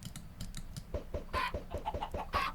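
Chickens cluck in short, bright bursts in Animal Crossing New Horizons, a quick irregular series of game sound effects heard close and fairly quiet.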